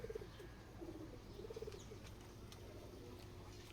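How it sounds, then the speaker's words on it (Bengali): Pigeons on a rooftop give soft, rolling coos in a few short bursts over a steady background hum. The calls are faint and somewhat distant. "এই যে বাকি কবুতরগুলো খাওয়া দাওয়া শেষ করে উপরে চলে গেছে।"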